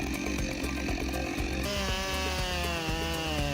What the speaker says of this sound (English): The Husqvarna 572 XP chainsaw is unbelievable.